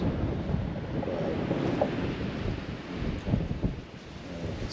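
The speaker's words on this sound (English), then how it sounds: "It's okay in wind like this, where the sand's blowing across the ground." Strong gusty wind blows across an open beach, sand sweeping over the ground, as a continuous rumbling roar with buffeting surges, fairly loud and without talk.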